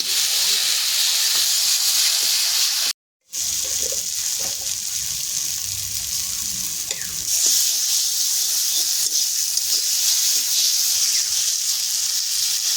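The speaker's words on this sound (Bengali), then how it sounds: "ভালো করে ভাজা ভাজা করবো" Taro leaf paste fries in a pan with turmeric and salt, giving a steady, loud hiss and sizzle that runs almost unbroken throughout, with one brief cut to silence.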